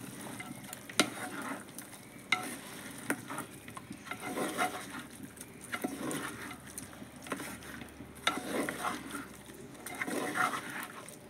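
Chicken curry masala with turmeric being sautéed and stirred in a pan: a soft, low-level sizzle broken by repeated scraping and tapping strokes of the spoon.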